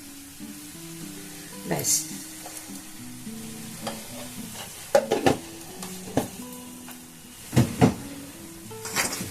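Date palm jaggery is worked into carrot halwa in a pan with a soft sizzle, punctuated by repeated spoon scrapes and clanks against the metal, and a voice speaks briefly.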